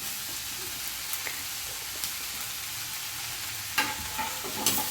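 Steady sizzling and frying of onion and capsicum in a pan with occasional stirring scrapes and clinks, continuous and close, no voices.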